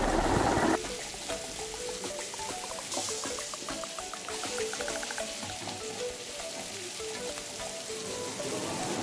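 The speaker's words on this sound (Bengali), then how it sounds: "তো এখানে মোটামুটি পেঁয়াজটা ভাজা হয়ে গেছে" Onions fry in a pan with a soft, steady sizzle, and faint stirring clinks come through at low volume.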